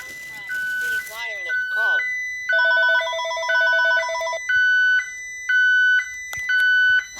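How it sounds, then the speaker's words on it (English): Landline telephone in a store ringing in repeated electronic warbling bursts, loud and near, following some brief sounds at the start with no one speaking. "the phone rang. Not my phone, but the store phone"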